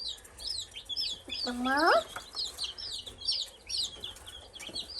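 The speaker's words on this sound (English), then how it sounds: "No, not bunnies. They're chickies." A flock of baby chicks cheeps in rapid, high, overlapping peeps, close by, with a louder falling call partway through and a brief voice speaking.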